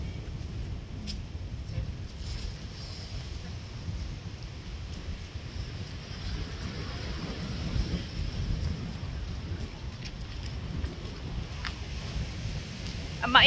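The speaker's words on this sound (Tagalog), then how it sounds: "Malakas ang alon, ang ingay. Halatang halata yung salpok ng tubig sa tabi." Strong wind buffets the microphone in a steady, heavy rumble as loud waves crash against a seashore, a continuous roar with no clear breaks.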